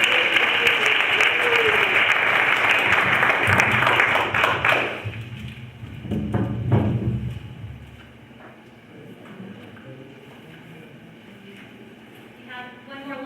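A church congregation at a conference applauds in a dense burst for about five seconds, then the clapping cuts off; scattered taps and a brief swell follow before quieter room noise with faint voices.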